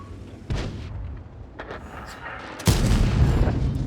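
Tank cannon fire in World of Tanks: a sharp blast early on, then a few lighter reports, and a louder, heavy boom near the end followed by a sustained rumble, all close and distinct.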